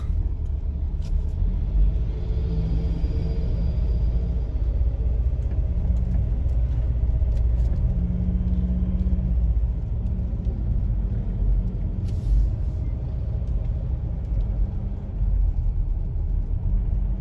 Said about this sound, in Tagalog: Malaking truck.